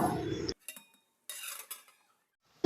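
A metal lid set onto a pot of North Indian style dalcha curry, brief clinks and rattles of metal separated by silence, ending in a louder close knock.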